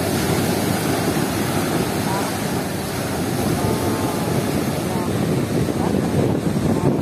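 Strong waves rolling in at Manila Bay, a continuous loud rushing surf roar mixed with gusty wind buffeting the microphone, with no pauses throughout.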